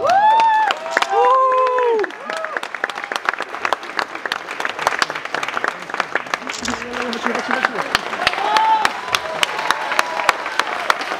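An audience at a comics convention applauds for a Lady Oscar cosplayer, with sustained rhythmic clapping over amplified music that fades out early, continuing steadily to the end.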